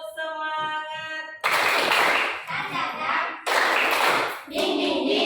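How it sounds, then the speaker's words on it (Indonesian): A group of children claps in rhythm as a classroom ice-breaker chant, loud bursts of clapping mixed with voices and sung syllables, alternating with pauses. "Tepuk semangat."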